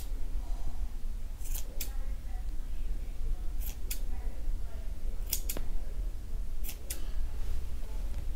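Scissors snip the yarn edges of a crochet ear warmer, tidying loose strands; four distinct pairs of close, crisp cuts come at a steady pace over a low background hum, with no talking.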